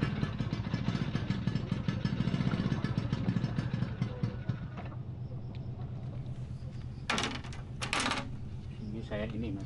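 A motorcycle on Karimunjawa in Indonesia is fetched and started, its engine idling and clattering loudly up close before easing off, with sharp mechanical knocks and people talking nearby.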